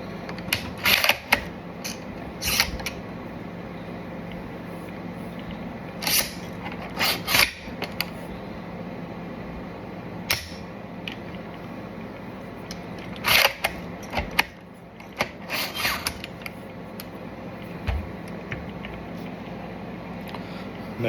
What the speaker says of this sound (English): So we need to make sure the bolt is closed, locked, and it should be a nice smooth action.